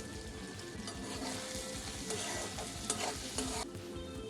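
Powdered spices go into softened tomatoes in a frying pan, producing a steady soft sizzle with spoon stirring and scraping, a faint hum below and a brief louder clink near the end, with no talk.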